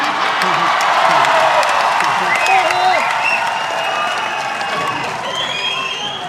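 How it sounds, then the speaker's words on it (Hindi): A Haryana event crowd applauding and cheering for a Bollywood actor, a loud sustained wash of clapping with shrill whistles and shouts mixed in, continuing for several seconds before easing slightly. "जोरदार तालियां।"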